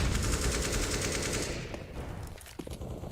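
Rapid automatic gunfire rattles in a Valorant Flashpoint match, a dense, loud burst for about a second and a half before fading into quieter game sounds and a few isolated shots.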